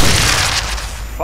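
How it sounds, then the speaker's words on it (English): A grenade blast in the stealth shooter Splinter Cell Blacklist: a loud, broadband boom rolling through the whole short moment, with a brief voice cry at the end. "Grenade! Heads up!"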